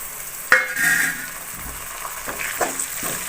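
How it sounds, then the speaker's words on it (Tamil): Tomatoes and onions sautéed in a pan for a village-style kuravai fish curry, with a sharp clatter as the ingredients go in followed by soft stirring and scraping under a light sizzle. "இது வந்து நல்லா கொலையிற அளவுக்கு நல்லா வதக்கிக்கலாம்"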